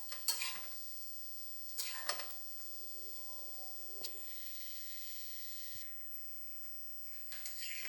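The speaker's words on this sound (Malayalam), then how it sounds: "നമുക്കിങ്ങനെ ഒന്ന് ഇളക്കി നോക്കാം. ഇളക്കി കൊടുക്കാം." Jackfruit seed kondattam fries in a pan with a quiet, continuous hiss, broken by several sharp stirring scrapes and clatters at irregular intervals.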